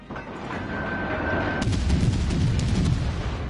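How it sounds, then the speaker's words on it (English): Missiles launch in the naval combat video game World of Warships: a dense run of booming, crackling gunfire-like blasts starts about halfway through and continues loud over a rumbling battle background, with no talk. "I've got missiles coming its way"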